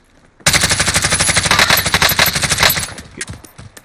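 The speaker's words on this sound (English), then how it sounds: "Who are you firing at?" Rapid automatic gunfire in a Call of Duty Cold War Warzone match, a loud sustained burst of dense shots lasting over two seconds, then tapering off, with no talking.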